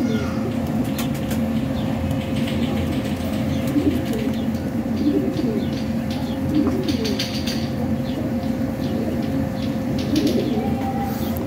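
Pigeons cooing at a pigeon market, a continuous chorus of low rolling coos close by, with faint chatter and scattered bird calls in the background.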